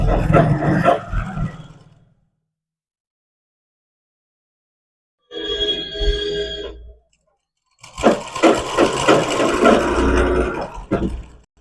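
A sewing machine stitching a pocket onto velvet pants whirs loudly and close in three bursts, the middle one shorter and the last the longest, separated by a full stop of several seconds.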